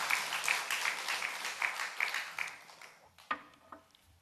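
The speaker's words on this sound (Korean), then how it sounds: "우리 영광의 박수 올려드리겠습니다" A church congregation at an Easter service claps together in a dense burst of applause that fades out, followed by a couple of scattered knocks, heard from within the hall.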